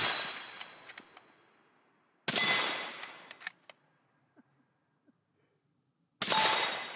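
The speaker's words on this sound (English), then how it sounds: "took some shots at the steel" Two loud rifle shots crack on a hillside range, each trailing a rolling echo, with sharp metallic pings from steel targets set at 50 to 80 yards ringing out between them, and a third shot at the end.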